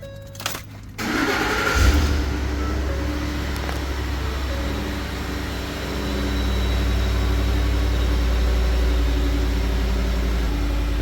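A car engine that had a fuse fault causing cylinder misfires cranks briefly and then catches. It settles into a steady, fairly loud idle that runs on with a low drone.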